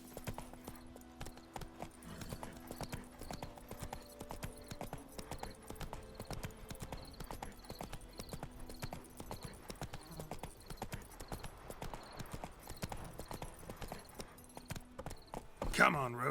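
A horse gallops in The Witcher 3, its hooves pounding in a quick, steady clip-clop rhythm that carries on throughout at moderate volume.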